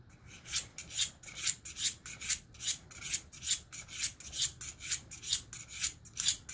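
An old-school single bevel broadhead being sharpened: steady, rhythmic rasping strokes, about a dozen even passes back and forth, close and fairly quiet.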